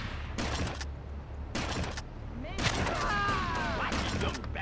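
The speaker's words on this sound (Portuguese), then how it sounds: "Foi um chute com tiro ao mesmo tempo." A kick and gunshot together in GTA Vice City Stories, heard as a cluster of sharp bursts of impacts and shots among game noise, with voices nearby.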